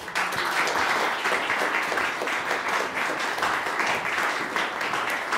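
An audience applauds to welcome composer Mark Adamo at an opera center concert event, dense sustained clapping from a large crowd, steady and loud throughout.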